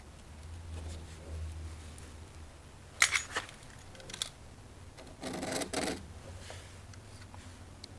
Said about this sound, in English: Use my knife at an angle just to scrape out the extra thinset.